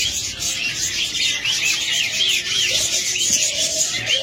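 Pet budgerigars and cockatiels chirping together in a cage, a continuous busy chatter of high tweets and warbles, fairly loud and close, with faint background noise beneath.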